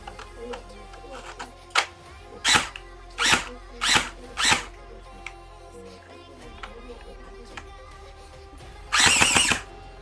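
K2C1 airsoft electric gun mechanism test-cycles after partial assembly, giving a series of short whirring bursts, about five evenly spaced, then a longer final burst, close and fairly loud.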